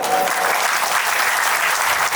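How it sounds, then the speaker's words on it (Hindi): A kavi sammelan crowd in Chhattisgarh gives a round of applause honouring the humour poet Krishna Bharti: dense, even clapping from many hands, continuous and fairly loud for the whole stretch. "एक बार का सम्मान में ताली बजा दो"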